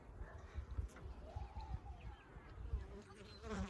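Honeybees buzzing around an opened hive early in the morning, a faint, wavering drone of many insects close by, with scattered louder passes.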